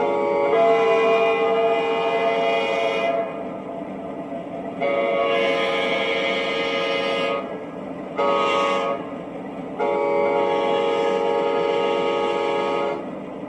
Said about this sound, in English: I put the crossing horn on there.